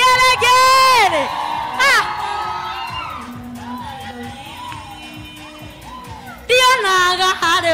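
Church congregation at a Kikuyu service breaking into loud, high warbling ululation and cheering in bursts at the start and end, with shouting and voices in the quieter middle stretch.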